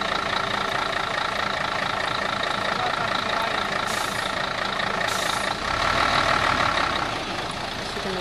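A big truck drives in at a construction build site, its engine a steady near rumble throughout with a louder surge toward the end; faint talk sits beneath the noise.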